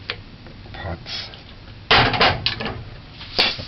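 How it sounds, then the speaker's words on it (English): A metal pressure cooker pot clatters on a stovetop while beef soup is prepared, with close, sharp clanks and scrapes in uneven bursts, the loudest near the middle and end. "a pressure cooker pot."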